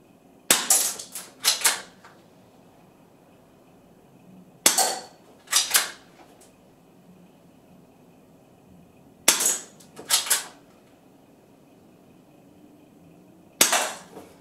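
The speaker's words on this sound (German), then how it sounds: "Wir machen nochmal 4-5 Schuss mit der Kompakt auf ein frisches Zielscheibchen." Umarex USP Compact spring-powered airsoft pistol fired at a fresh paper target, four sharp doubled snaps in separate pairs spaced a few seconds apart, each a crisp shot and quick impact, with quiet pauses between.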